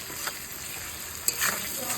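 Chopped onion and tomato fry in a pan with a continuous bright sizzle and hiss, and a couple of brief stirring scrapes come through near the end. No one speaks.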